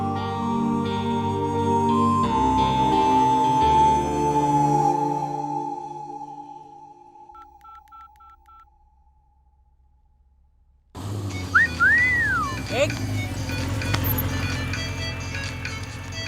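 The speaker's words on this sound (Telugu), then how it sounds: "ఎవరో ఫోన్ రా." A mobile phone rings with a melodic electronic ringtone that plays loudly, fades to near silence, then gives way to a busier stretch of beeping tones and background noise.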